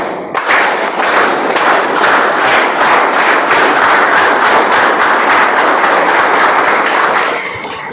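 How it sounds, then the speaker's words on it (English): Meeting audience bursting into applause on cue, a loud, sustained wave of clapping from many hands that starts abruptly and holds steady for several seconds before tapering off, with no voices over it. "So when I put my hands down, you clap."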